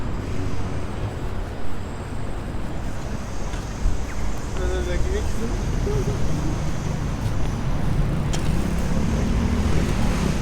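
A bus rolls along a warm, busy Sydney street among steady traffic, its engine a loud, close rumble that swells around the middle and end over a continuous roadway drone, with a voice faintly audible in the background.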